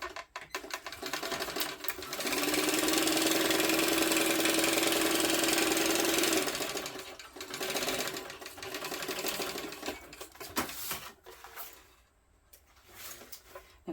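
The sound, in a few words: sewing machine stitching a tote bag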